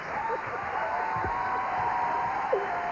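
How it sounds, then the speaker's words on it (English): A studio audience at a Hollywood-themed HBO comedy taping applauds in a steady, even wash of clapping, moderately loud and without a break, with no talking over it. "Applaud yourselves."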